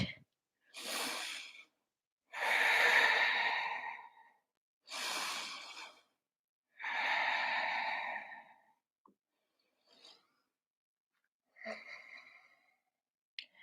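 Slow, deep breaths during a yoga stretch, about five long inhale-exhale bursts with pauses between, close and fairly loud, fading to a few faint breaths near the end; no talking.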